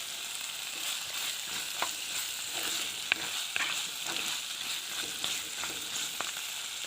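Fish head and sour bamboo shoot fry in oil with a soft, steady sizzling hiss, joined now and then by light stirring taps in the pan.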